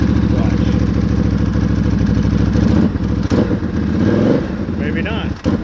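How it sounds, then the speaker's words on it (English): A 2016 Can-Am Renegade 1000 ATV engine idles with a steady low rumble, then is revved and falters and stumbles, its pitch wavering unevenly as it threatens to die out. "So if I was to hit the gas, it wants to just die out."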